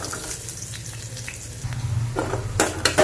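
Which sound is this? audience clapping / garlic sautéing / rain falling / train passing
garlic sautéing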